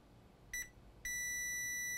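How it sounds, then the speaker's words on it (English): A multimeter in continuity mode gives a short high beep, then a second steady tone that holds to the end, clear and close against a quiet background. "So the meter is gonna beep."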